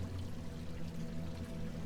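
Flowing stream water in the A New Beginning game, a steady, close pouring rush that runs evenly throughout with no pauses.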